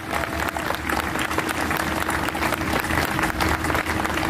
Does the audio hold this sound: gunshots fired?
no